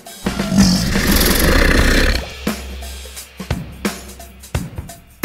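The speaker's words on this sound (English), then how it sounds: "Alligator." An alligator gives a deep, rumbling bellow lasting about two seconds, then several short low grunts and thumps follow, close and fairly loud, without speech.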